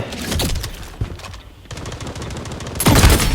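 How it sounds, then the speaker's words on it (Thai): Rapid bursts of video game gunfire, sustained automatic shots with sharp impacts, a brief lull midway, then a louder burst at the end. "ฝั่งนู้นมีเสียงปืนด้วยนะ"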